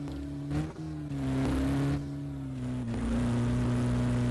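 A pickup truck engine in Roblox drones steadily with a low hum, rising in a couple of brief revs before settling back, fairly quiet and with no talking.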